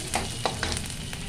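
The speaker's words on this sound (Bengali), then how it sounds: "মশলাটা হালকা ভাজা করে নিয়ে" Spice paste of ginger and green chillies lightly frying in a pan, a close sizzle broken by a few scraping stirs of a spatula in a short burst.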